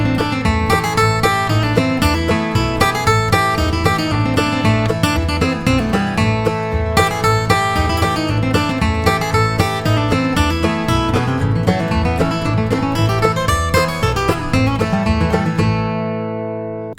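Banjo playing a bluegrass tune, worked into a two-bar lick. The picking is rapid and steady with bright, dense rolls, and it plays alone without talk until it rings out at the end.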